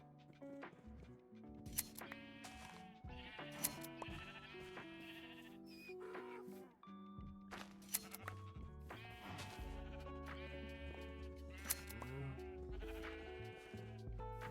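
Sheep bleat repeatedly in a Minecraft world, several short nasal calls at varying pitch scattered over a steady musical background, moderately loud with no talking.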